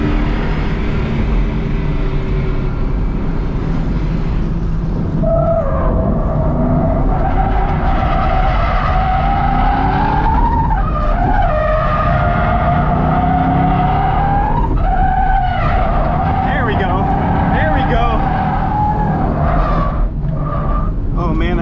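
A drift Mustang's tires squeal and skid on a race track in long wavering bursts over a loud, constant engine roar, the squeals rising and falling repeatedly.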